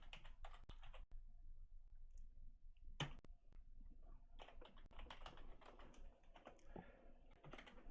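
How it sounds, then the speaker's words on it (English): Continuous typing on a computer keyboard while setting up text for a truck trailer skin, with dense, irregular key clicks running throughout, fairly close and steady, no talk. "I'm typing the name wrong"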